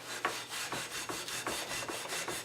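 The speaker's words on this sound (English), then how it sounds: "We're going to start buffing all the scale off of this piece." Fine steel wool buffs rust scale off a rifle's browned metal in a close, rhythmic rasping, about eight even back-and-forth strokes with no talking.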